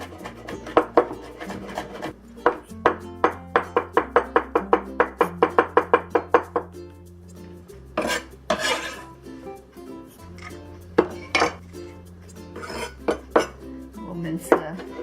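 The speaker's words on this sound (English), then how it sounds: "Let's mince the garlic." Kitchen knife mincing garlic on a cutting board: a fast, steady run of sharp knocks, then scattered heavier chops and scraping, close and fairly loud over a low background hum.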